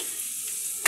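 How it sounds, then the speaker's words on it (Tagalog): Onion and garlic frying in a pan give off a steady close hiss, with a brief louder crackle at the very end. "nilagyan po natin ng sibuyas at bawang"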